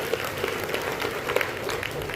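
A church congregation claps to glorify the Lord during a Hindi sermon, a brief, steady patter of many hands clapping together.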